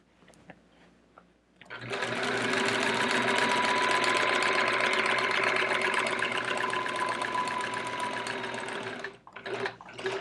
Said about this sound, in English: I'm also trying to sew straighter.